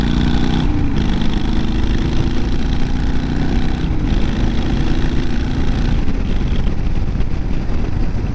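A Harley-Davidson chopper with a new ignition coil runs just after starting, a loud continuous engine roar close by with a rough, uneven pulse throughout and no voices.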